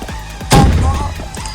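A starter pistol firing in a 1v1 video game gunfight, one sharp loud shot with a short booming tail, close, between faint lighter clicks.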